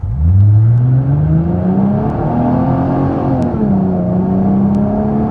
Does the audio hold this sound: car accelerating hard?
yes